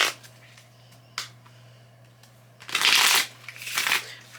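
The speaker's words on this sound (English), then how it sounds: "let's do some shuffling" A deck of playing cards is shuffled close up in a quiet room: a few light riffles and taps, then a loud, quick riffle burst followed by a second shorter one, over a low steady hum.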